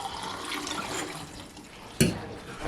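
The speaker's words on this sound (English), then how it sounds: "next you're going to pour in your stop" Stop bath poured into a small processing tub during black-and-white film developing, a steady liquid pour with a sharp splash near the end, close by and fairly quiet.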